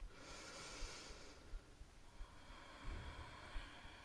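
During a hip yoga stretch, faint slow breathing comes through as a soft airy exhale followed by quieter nasal breaths, close but very low in level, with no speech.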